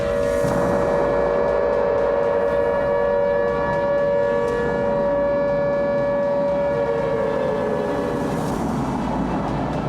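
A civil defense siren wails loudly and continuously, holding a steady sustained tone with a slight rise and fall throughout.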